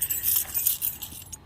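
A large bunch of keys for a Black Series HQ19 RV jangles and clinks close by, bright metallic rattling in several quick bursts that fade out at the end.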